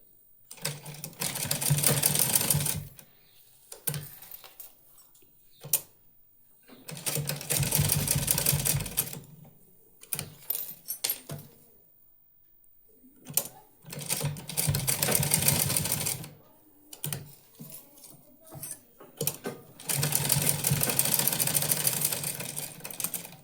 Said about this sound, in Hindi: तो मैं इसको स्टिच करके आपको दिखाती हूँ।